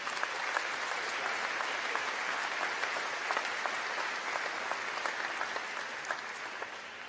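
Sustained audience applause welcoming a commencement speaker at a graduation ceremony, a dense wash of many hands clapping steadily for about seven seconds with no talking.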